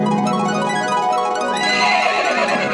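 A loud, drawn-out horse whinny rising and wavering, close and dominant with no talking.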